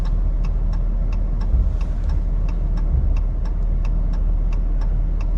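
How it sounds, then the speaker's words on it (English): Street traffic in Bar Harbor, Maine: a steady low engine rumble dominates, likely from inside a vehicle, with a regular ticking like a turn signal clicking through it. "There's not a huge amount of traffic, just enough to make this turn a little difficult."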